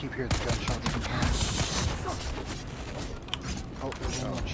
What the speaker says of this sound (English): Keep hearing the gunshots from behind.